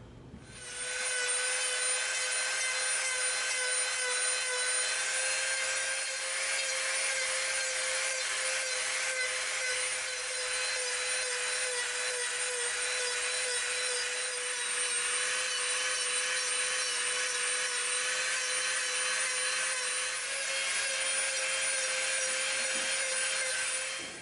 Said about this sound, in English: we're gonna come in with our Dremel and we're gonna bevel from this inside line to the top, all the way around